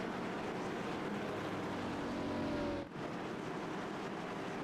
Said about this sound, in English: See the pace car coming through the backstretch.